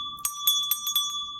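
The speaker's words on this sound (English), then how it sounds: "Do you see the orange bell?" A small bell rings clearly and close, struck in about five quick, bright dings over a sustained metallic tone, with no voices.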